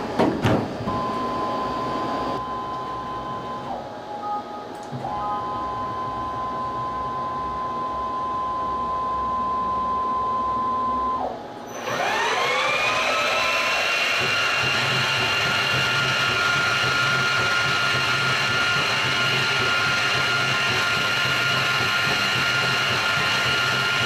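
A machine spindle turns at 3,000 RPM while making a spiral cut of about 40 thousandths, a steady mechanical whine and hum with a faint tone early on, then a louder, denser cutting drone from midway.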